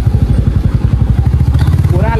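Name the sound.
motorcycle being parked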